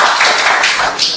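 An audience in a Hindi-language training session claps for themselves, a dense, continuous patter of many hands that sounds fairly near and loud, with no talking over it.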